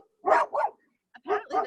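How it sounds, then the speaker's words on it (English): A dog walking past the house barks four times, two quick pairs of sharp barks, fairly close and loud, with quiet between the pairs. "apparently the same dog is walking by our house that walks by every single day"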